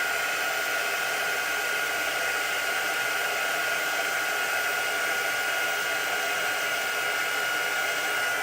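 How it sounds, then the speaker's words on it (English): An embossing heat tool blows a steady, loud, continuous hiss of hot air to melt and set embossing powder on a card, running unbroken without talk. "this just heats it up enough so that it sets the embossing powder into the card"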